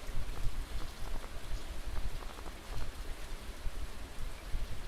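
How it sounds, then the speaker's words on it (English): Steady rain falls in the farming video game Stardew Valley, a dense even hiss of drops with a low rumble underneath, continuous and moderately loud throughout with no talk. "It's raining."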